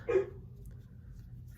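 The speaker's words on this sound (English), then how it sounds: "My dog is barking." A single short dog bark rings out indoors, moderately close, followed by a quiet room hum.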